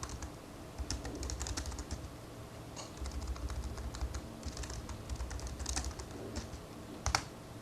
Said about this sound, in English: I obviously did not type that in correctly